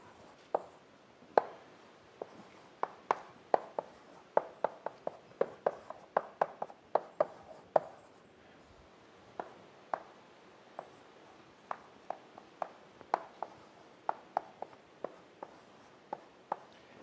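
Chalk or marker tapping and scraping on a lecture board while a tree diagram is drawn for an algorithms class, a string of quick irregular strokes and taps at moderate distance, with no talking.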